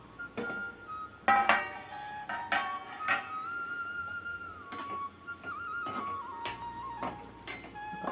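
A lid comes off a pan of Udupi hotel-style upma with a few metallic clinks and clanks, spaced out over several seconds, close and moderately quiet.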